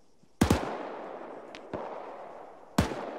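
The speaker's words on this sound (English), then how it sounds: "Eversman, frags south over the wall." Frag grenade explosions in ArmA 3 combat, two loud sharp booms with long rolling decay about two seconds apart, plus a fainter crack between them, no talk over them.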